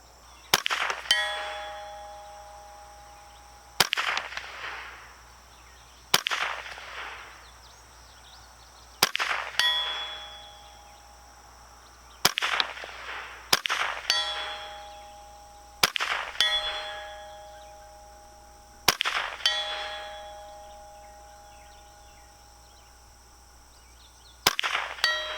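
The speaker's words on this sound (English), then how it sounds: "I'm going to go ahead and take some shots at the 100-yard target" A Ruger 10/22 Takedown rifle fires at a 100-yard steel target, each shot followed by a ringing metallic clang; about ten sharp impacts spaced a few seconds apart, with long decaying rings and no talk.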